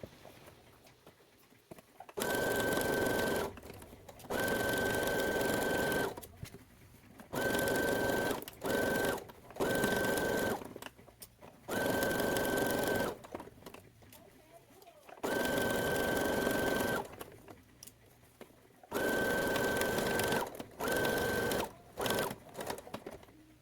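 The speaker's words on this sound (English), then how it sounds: "So I will sew it together with the pattern S." A sewing machine stitches the seam of a vintage-inspired summer dress in repeated bursts of steady whirring and rattling separated by short pauses, close and clear, with no talking.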